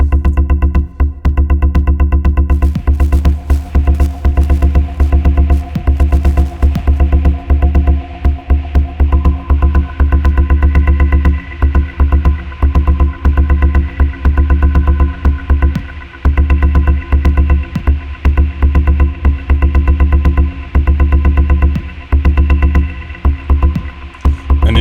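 A dense, buzzing synthesizer drone from a Behringer 914 filter bank passed through an Elta PF3 Polyvox-style filter, sustained and loud with a rhythmic pulsing texture throughout.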